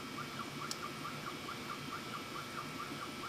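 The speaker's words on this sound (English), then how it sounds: "Turn on my fume extraction." A fume extractor runs with a steady, fairly quiet whirring fan hum throughout, with faint high chirps repeating evenly in the background.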